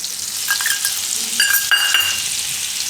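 Refined flour roasting in oil in a pan over low gas, a continuous bright sizzle with a few scraping stirs and spoon taps, heard close and alone.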